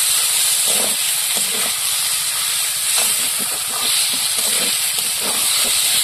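Water poured into a hot pan of spiced potatoes and pre-fried onion stalks gives a steady, loud hiss of steam and sizzling, with soft stirring clatter running through it.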